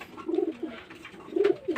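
Pigeons coo from a rooftop loft, giving two clear low rounded phrases with a quieter murmur in between, heard close by and without any talk.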